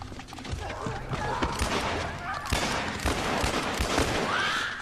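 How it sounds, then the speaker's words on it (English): Gunfire aimed at zombie enemies in The Last of Us on PS3, a steady run of shots and impacts under a dense in-game soundscape with crashing noise, at fairly low level throughout. "zombies that just don't die, no matter how much you shoot them"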